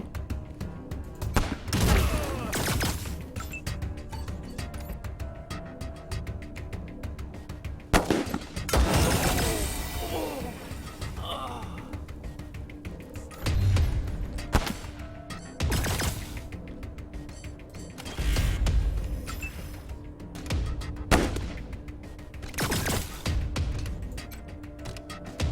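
Repeated bursts of gunfire in the Wasteland 3 video game, a mix of single heavy shots and rapid volleys with booms and shattering, loud and dense throughout about 25 seconds with no voices.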